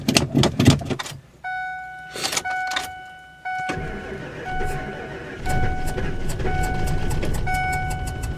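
A cold 1973 Dodge W200 truck engine cranks over with repeated starter bursts, then catches and settles into a rough, steady idle, loud and close with a faint whine on top.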